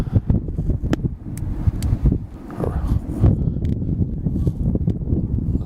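Wind gusts buffet the microphone outdoors in a garden of herbs such as thyme, a steady close low roar with brief rustles, with no talk.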